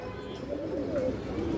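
A red-eyed pigeon at a loft selling high-flying breeds coos in low, wavering notes that run steadily through a short stretch, close by and moderately loud, with no talk over it.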